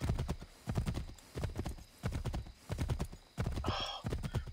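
Horse hooves clip-clop in a steady trotting rhythm while riding in Assassin's Creed III, close and clear, with a brief whinny near the end.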